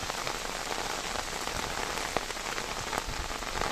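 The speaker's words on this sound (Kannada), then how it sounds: "ಒಳ್ಳೆ ಮಳೆ ಬರ್ತಾ ಇದೆ ಬೆಳಿಗ್ಗಿಂದಲೇ" Heavy monsoon rain in Kodagu, Karnataka pours down in a constant close hiss, with scattered drops pattering sharply on a surface.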